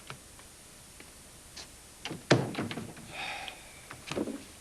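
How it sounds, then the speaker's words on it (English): A door swings shut in an office, landing as one sharp, fairly close knock with a brief rattle, followed by a few softer knocks and handling sounds in a quiet room. "Megan, you want to close the door?"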